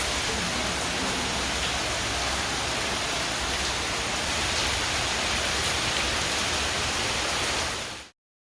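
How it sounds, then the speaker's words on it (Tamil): Heavy rain pours steadily in an evening storm, a dense, loud, unbroken hiss that cuts off abruptly near the end, with no distinct thunder or speech. "மாலையில் கருமேகங்கள் திரண்டு பலத்த காற்று, இடி மின்னலுடன் பலத்த மழை கொட்டியது"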